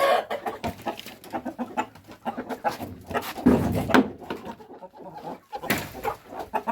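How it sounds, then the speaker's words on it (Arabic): Turkeys kept in a freshly swept and cleaned pen cluck and call in busy, overlapping bursts close by, with louder squawks rising now and then and no talking. "شوف الفراخ الهندي دي النهارده عامله ايه بعد الكنس والتنظيف ده"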